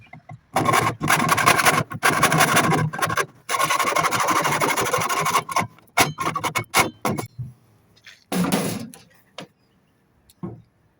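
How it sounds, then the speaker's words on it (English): A hacksaw cuts through a metal downpipe in bursts of rasping back-and-forth strokes, close and fairly loud, with short pauses between runs of strokes. "I'll cut that with a hacksaw today"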